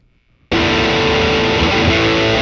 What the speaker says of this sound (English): this is using the distortion pedal, the new one.